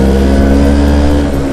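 A Vespa Super scooter engine revs loudly and steadily in third gear, close up, with a continuous buzzing drone and no talk.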